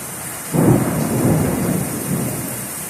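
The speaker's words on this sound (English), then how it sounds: "Thunder is starting to get really loud." A low roll of thunder swells suddenly and rumbles on beneath a constant hiss of rain.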